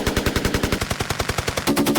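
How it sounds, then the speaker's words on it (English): A 15-round burst from a firearm recorded for video game sound design: rapid, evenly spaced loud shots rattling off in quick succession for about two seconds, with no voices. "And upcoming is the 15-round burst."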